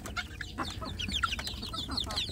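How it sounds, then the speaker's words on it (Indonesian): Free-range village chicks inside a plywood rearing box, chirping and clucking in a busy stream of high, quick peeps from several birds close by. "anak ayam kampung saya ada di dalam box ini ya"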